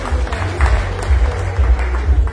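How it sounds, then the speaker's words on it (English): An audience at a formal evening event with royalty present gives sustained applause, a dense steady wash of clapping that carries on throughout. "can we once more give a thunderous and deserving round of applause"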